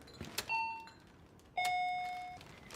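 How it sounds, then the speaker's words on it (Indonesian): An apartment doorbell chimes twice, bright electronic tones that hold and slowly fade, over a faint background hiss with a couple of soft knocks or clicks before the first ring. "bel yang terus berbunyi oleh Okju tidak mendapatkan respon"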